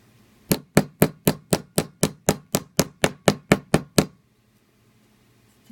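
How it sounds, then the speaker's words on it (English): A hammer taps around the edge of a copper bezel, about fifteen crisp, evenly spaced metallic knocks at close range, then silence. "So, slowly I tap around."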